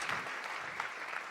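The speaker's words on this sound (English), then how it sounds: "Give them a round of applause." Audience applause fills a theater in Washington, D.C., a steady wash of clapping hands lasting over a second with no voices on top.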